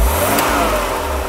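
A 1993 Mercedes 300GE engine, under repair, revs as the throttle is pressed, a loud close engine note rising from idle in one short push with no talk.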